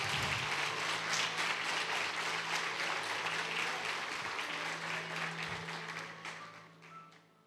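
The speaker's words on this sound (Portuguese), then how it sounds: "Glória a Deus, aplaude mesmo." A church congregation applauds together in a dense, steady wash of clapping that rolls on for several seconds, then gradually fades toward the end.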